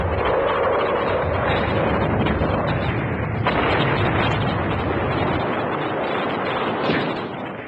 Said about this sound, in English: the Germans began a hurricane artillery bombardment of the remaining Polish positions